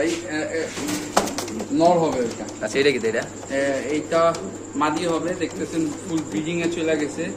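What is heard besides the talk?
pigeons cooing at a fancy pigeon farm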